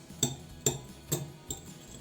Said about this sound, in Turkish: 4 orta boy yumurtayı çırpıcı yardımıyla çırpalım